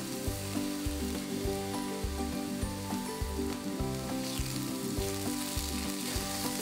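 Onion browns in a pan with a steady, crackling sizzle. Faint utensil ticks land at a regular pace underneath, and the sound is close and even throughout with no speech.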